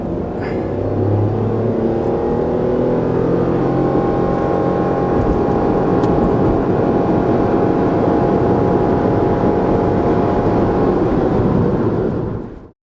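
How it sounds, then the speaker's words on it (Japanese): A Toyota Roomy X's small engine drones steadily as the car accelerates along a road, a loud, continuous rumble with rising harmonics and road noise that stays even until it cuts off at the end. "最初に加速中のエンジン音、まずはルーミ"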